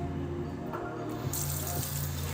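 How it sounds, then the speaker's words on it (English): Tie-dyed fabric rinsed under a running tap, water splashing steadily into a sink at close range with a brief shift in the flow partway through. "I'll rinse it from the bottom side up"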